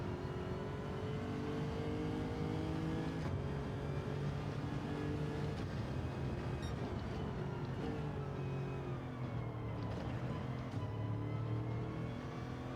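A Lexus RC F GT3 race car engine in the Gran Turismo 7 video game, lapping Lago Maggiore, with a continuous droning engine note that rises and falls through gear changes, steady and moderately quiet.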